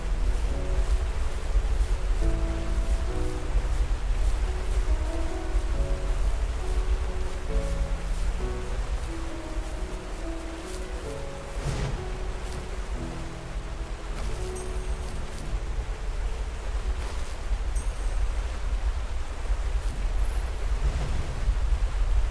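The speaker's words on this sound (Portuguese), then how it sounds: "Cachoeira aí, hein, galera." A waterfall in the video game The First Tree rushes as a steady, dense roar that holds throughout, with soft game music notes playing over it and no talk.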